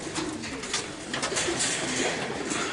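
Racing pigeons at a one loft race in Queensland coo and rustle steadily in a busy loft, a dense near chorus with soft bird noise throughout and no clear talk.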